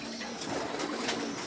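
Breeding pigeons, including young birds, coo softly in a loft, their low, throaty calls repeating at a moderate distance against a quiet background.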